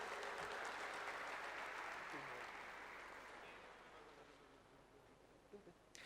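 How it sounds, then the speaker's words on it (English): A round of applause from the audience at a hospital health and wellness fest, dense and steady at first, then gradually thinning and fading over several seconds, with faint crowd murmur underneath. "A big round of applause, please."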